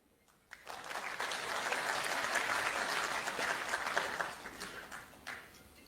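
A large crowd at a political speech by Rahul Gandhi breaks into loud, sustained applause that swells quickly and keeps going for several seconds before easing off.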